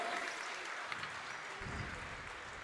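Crowd applause at a girls' high school basketball game between Mt. Vernon and Anamosa, faint and distant, a steady wash of clapping through the gym.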